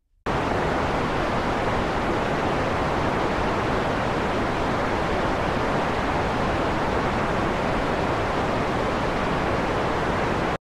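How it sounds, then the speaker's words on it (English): Steady broadband hiss of white noise plays continuously for about ten seconds, loud and unchanging, with nothing else heard. "I'm just going to play some white noise for the next 10 seconds"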